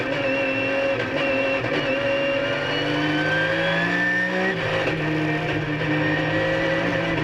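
Onboard a Porsche GT3 Cup race car during a GT3 Cup Challenge Australia race, the engine screams loudly and steadily, its pitch climbing and dropping through gear changes, with no talking over it.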